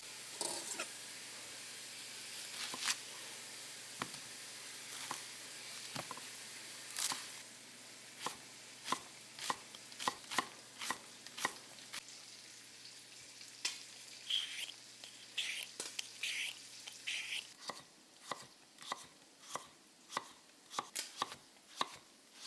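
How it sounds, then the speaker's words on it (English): Vidalia onions being sliced with a knife on a cutting board, giving a series of sharp, crisp chops, spaced apart at first and then coming faster and evenly toward the end, close and clear over a quiet background. "So 2 onions, I'm going to go ahead and peel them, split them in half, and then we'll get them sliced up."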